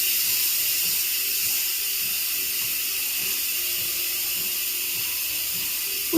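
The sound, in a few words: steam pressure being released from a pressure cooker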